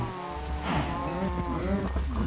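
A cow at a farm moos in a long, loud, drawn-out low call close by, alone over faint background noise.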